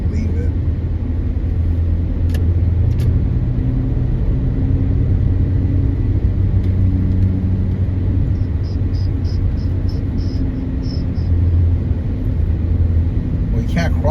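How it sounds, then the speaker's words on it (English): Heavy road traffic on a busy highway in a metro area, a steady loud rumble of many passing cars heard from close by with voices talking over it throughout. "there is so much traffic"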